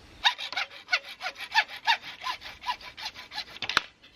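A saw cuts through conduit at a house wall while wire is being run for a micro hydro setup, with a steady series of about a dozen close, rasping back-and-forth strokes and a sharp click near the end.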